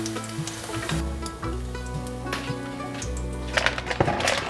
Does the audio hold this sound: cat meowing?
no